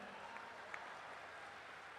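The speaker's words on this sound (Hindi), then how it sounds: "50-60 लोगों ने ताली बजाई है" Faint, steady applause from a small audience of about fifty or sixty people at a Hindi comedy poetry gathering, a dense patter of hand claps heard from a distance with no standout voices.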